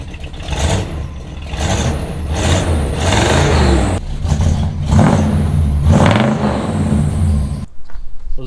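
A car engine revving through an exhaust fitted with two mufflers, loud and close, with repeated rising and falling throttle blips over a steady rumbling idle.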